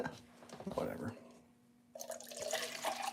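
Tap water runs in a kitchen while breakfast is made, a steady splashing stream that stops briefly and then returns more strongly, heard close with a person talking over it.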